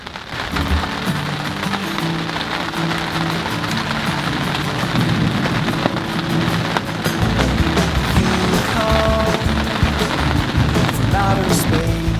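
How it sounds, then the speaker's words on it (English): Rain falling steadily on a garden, a dense, continuous patter close by with no break, varying slightly in texture but holding an even loudness throughout. "back out into the rain"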